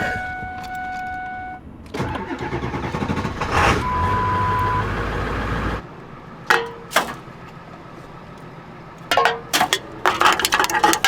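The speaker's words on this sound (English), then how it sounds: "Fire up the truck." A camper truck's engine cranks and turns over, followed by a steady idle rumble, then intermittent sharp beeps and clicks from the vehicle, all close and fairly loud without talk.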